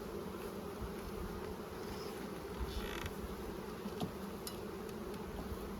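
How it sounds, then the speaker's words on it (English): Honey bees hum steadily around a two-sided hive, a dense continuous drone close by with a few brief mechanical clicks and no voices. "The bees have had hardly any flight."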